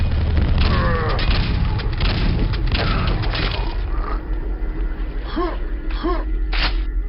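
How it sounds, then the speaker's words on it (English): Green blobs in Quake: Arcane Dimensions burst with a cluster of loud, booming explosions in the first half, followed by short chirping game effects as the din settles. "Don't stand on the green blobs. They explode."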